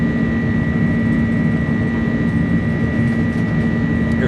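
Pratt & Whitney jet engines on an Airbus A300 at takeoff power in a flight simulator, giving a loud, steady roar with a sustained tonal whine and no break.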